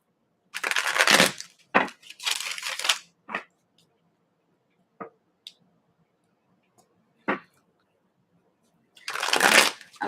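Tarot-style cards being shuffled for a reading, close and crisp, in several short riffled bursts separated by quiet pauses with a few light taps and clicks in between.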